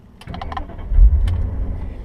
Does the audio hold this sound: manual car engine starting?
yes